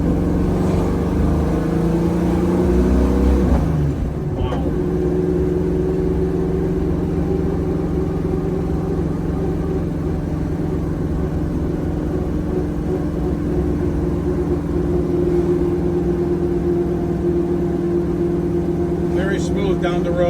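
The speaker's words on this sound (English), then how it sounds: "Plenty of power in this baby." A 1969 Chevrolet Camaro with a manual transmission cruising down the road, its engine giving a steady, loud drone throughout after an early shift, with road and wind noise mixed in.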